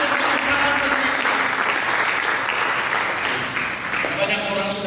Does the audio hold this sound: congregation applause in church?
yes